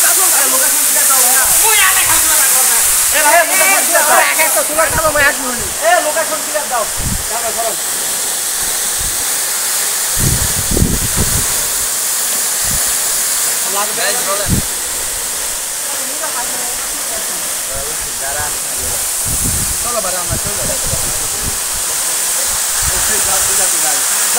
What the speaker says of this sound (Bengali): প্রাকৃতিক ঝর্ণা, দেখেন